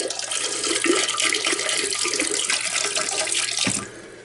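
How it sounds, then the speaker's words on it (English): Antifreeze being poured into a toilet while a cabin is winterized, a steady, close splashing gush of liquid that stops abruptly near the end. "I'm going to pour antifreeze into the toilet."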